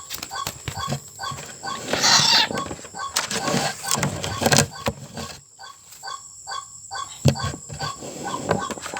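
Several freshly caught wild birds flutter and call in a dense, busy jumble, with rapid squawks and wing flaps crowding the foreground.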